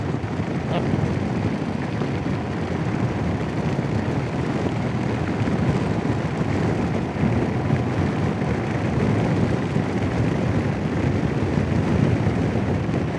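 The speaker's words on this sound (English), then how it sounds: "Nice bit of windy, drafty windy there." Steady, rumbling wind buffeting close to the microphone while riding a Royal Enfield Himalayan motorcycle, a continuous low roar with no clear pauses.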